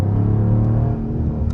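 A 2023 Dodge Charger Scat Pack's engine rumbles loudly and steadily from inside the car as it accelerates, a deep, even drone with a slight shift in pitch and no speech.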